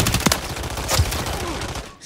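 Stock rifles fire in Call of Duty, a dense run of rapid, loud shots blending into continuous automatic fire before tapering off at the end.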